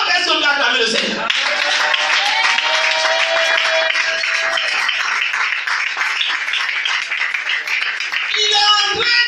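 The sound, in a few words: congregation applauding in church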